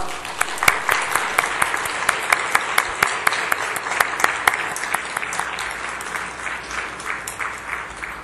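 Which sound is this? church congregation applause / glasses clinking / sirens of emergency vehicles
church congregation applause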